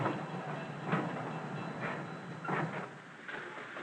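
Loaded freight cars roll along the rails at a country shipping point, with faint rhythmic clicks and soft clanks repeating over a low rolling rumble, heard from some distance and fairly quiet.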